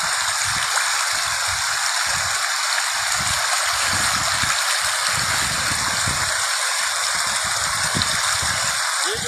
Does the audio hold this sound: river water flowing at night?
yes